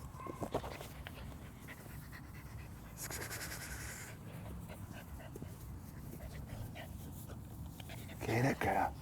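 A pit bull terrier puppy pants steadily at close range, with a few soft whimpers breaking through and a louder whine near the end, while people talk in the background.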